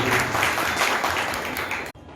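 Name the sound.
loud audience applause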